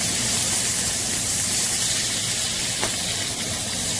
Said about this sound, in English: we'll just flip it over and make the grill marks on the other side